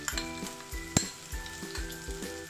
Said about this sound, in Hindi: अब इसको भी इसके साथ ही अच्छे से भून लेते हैं।